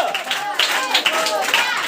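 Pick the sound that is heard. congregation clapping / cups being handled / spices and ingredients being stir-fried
congregation clapping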